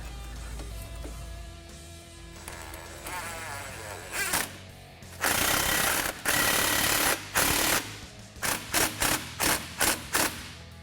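Exhaust clamps being tightened on an aFe Rebel side-exit cat-back exhaust with black tips on a 2015 Ford F-150, heard as a run of mechanical ratcheting and clanking bursts, loud and close, with a quick pulsing series near the end.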